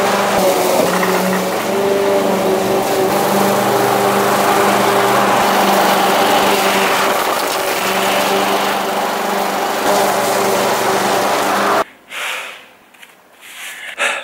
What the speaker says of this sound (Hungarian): most leviszem oda is a fűnyírót oda alulra, aztán lenyírom a felső felét